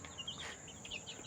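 Chicks on a poultry farm peep faintly in quick, high chirps over a low background hum, several small birds calling close together in a short burst.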